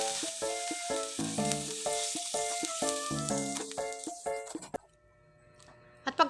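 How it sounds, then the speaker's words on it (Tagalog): Dried salted fish (tuyo) fries in palm oil in a pan, a constant bright sizzle with crackles, and upbeat music playing along for the first few seconds before fading out. "Prituhin muna natin lahat ng ating mga tuyo."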